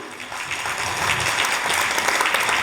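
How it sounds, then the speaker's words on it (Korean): Steady applause from an audience at a sustainable development goals declaration ceremony in Hwaseong, a dense wash of clapping that holds evenly throughout without pause. "여러분 다시 한번 축하와 격려의 박수 부탁드리겠습니다"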